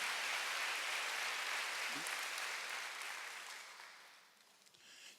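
Congregation at a Sunday church service breaking into applause, a dense steady clapping that fills the hall and gradually thins and fades toward the end.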